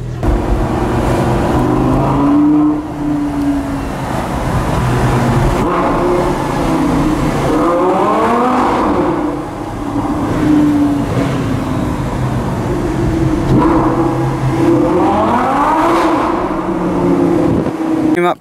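Lamborghini Gallardo sports car engine revving repeatedly, loud rising and falling roars in several cycles over a steady idle rumble, close to the microphone, with a person talking in between.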